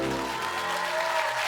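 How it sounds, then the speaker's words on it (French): Audience applause for champion figure skater Stéphane Lambiel at a televised tribute, a brief steady wash of clapping with a faint musical tone running underneath. "Un tonnerre d'applaudissements pour Stéphane Lambiel, notre champion du monde."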